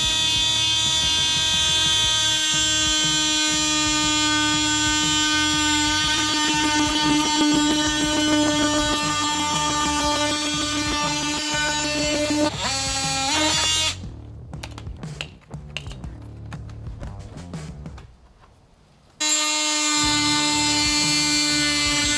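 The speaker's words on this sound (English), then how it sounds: "I've done this both with the grinder with the cutoff wheel and with the oscillating multi-tool." A power tool, a grinder with a cutoff wheel or an oscillating multi-tool, cutting into a 2016+ Toyota Tacoma during a front bumper install, a steady high whine that holds, drops into choppy on-off bursts, then resumes.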